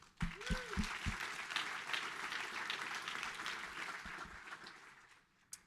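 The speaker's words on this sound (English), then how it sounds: "we'll give them one more round of applause if we can" An audience at a Toronto tech event applauds, starting with a few sharp claps and swelling into a dense, sustained round of clapping that fades out near the end.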